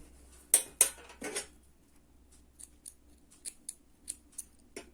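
Scissors snip through nylon cord used for a crocheted bag: a few close, crisp cuts near the start, then a scattering of lighter, quieter snips and clicks.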